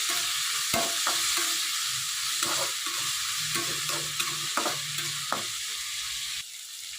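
Tomato with turmeric fries in a pan: a soft, steady sizzle punctuated by repeated spatula scrapes and knocks against the pan, close and fairly quiet.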